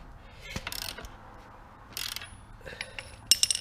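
A ratchet tightens the 27mm axle nut on a BMW G310GS motorcycle, with quiet, close bursts of rapid ratchet clicks spread across a few seconds.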